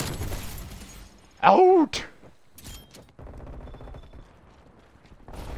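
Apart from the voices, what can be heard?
enemy turret gunfire in a video game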